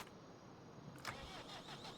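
A tractor engine cranks and fires up in the farming game Farming Simulator 25, a short starter burst giving way to a steady, close idle with a faint mechanical hum beforehand.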